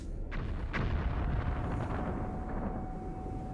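Missile explosions in the video game Metro: Last Light, two sharp blasts early on that trail into a long, heavy rumbling roar, loud and continuous with no speech.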